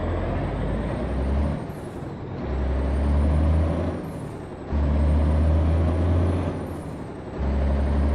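A Mack R truck in American Truck Simulator releases its air brakes while coming to a stop, with loud repeated hissing bursts over a steady low engine rumble, close and alone.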